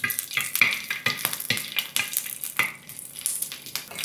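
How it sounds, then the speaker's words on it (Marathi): Green chillies and garlic roast lightly in hot oil for kharda chicken, making a crackling sizzle broken by repeated sharp spits and pops close by, with no voices. "मिरची अशी हलकीशी भाजून घेतली ना तेलावर"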